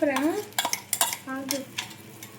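A spoon stirs and presses mashed brinjal fry in a metal pan, giving a series of scraping clinks and soft knocks against the pan's sides, close and fairly loud, with a faint sizzle underneath.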